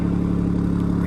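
A Nissan Titan with a quad exhaust by Madness Auto Works idles in a steady, deep, even rumble, close and fairly loud, with no voices over it.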